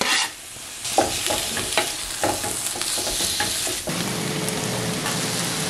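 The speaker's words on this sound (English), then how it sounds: "Then we're gonna add the onion." Onion fries in Graza cooking oil, giving a loud, close, continuous sizzle with scraping stir strokes throughout and a steadier crackle toward the end. A brief word is spoken.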